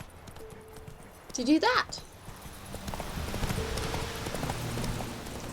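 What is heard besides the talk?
horse hooves trotting, from video game The Witcher 3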